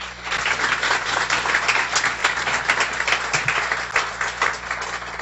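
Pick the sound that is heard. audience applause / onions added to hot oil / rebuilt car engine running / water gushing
audience applause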